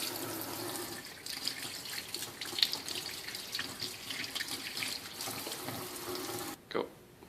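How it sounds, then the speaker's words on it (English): Tomatoes are rinsed under a running kitchen tap, a steady hiss of water splashing into the sink that continues throughout, with a brief clatter near the end. "let's get our tomatoes washed. Okay. So wash the tomatoes."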